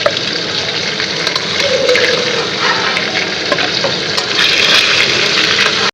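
Eggplant slices frying in hot oil in a Bengali home kitchen, giving a steady, dense sizzle that runs loud and unbroken throughout, with faint clinks now and then.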